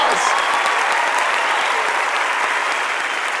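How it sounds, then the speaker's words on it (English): Loud, dense audience applause from a TV magic show studio crowd, a continuous roar of clapping that holds steady throughout. "Give her a huge round of applause!"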